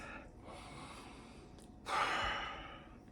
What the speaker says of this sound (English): Take another deep breath.